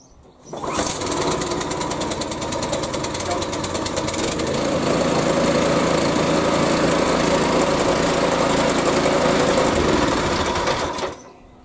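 A Hyundai HYSC210 212cc petrol lawn scarifier's engine catches after a recoil pull and runs close by at a loud, steady, buzzing clatter for about ten seconds, then cuts out.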